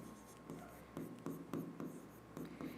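Marker or chalk writing medicine names on a board, a series of faint rhythmic strokes and taps spaced about half a second apart, quiet and close.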